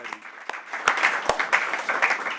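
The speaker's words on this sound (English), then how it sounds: "I think we have a round of applause for all the speakers that have already spoken" Audience applause for the speakers at a youth mental health panel, a dense burst of hand clapping with sharp individual claps standing out, fairly close and continuous for the whole stretch.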